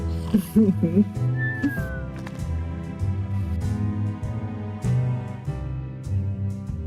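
A cartoon cat meows in a Jackbox party game, one wavering meow near the start over continuous game music, with a person talking.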